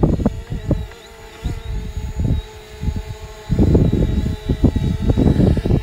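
A Hubsan Zino quadcopter drone climbs up and away over Lucky Peak Reservoir, its rotor whine fairly steady while irregular wind buffeting and gusts thump the microphone, swelling louder toward the end.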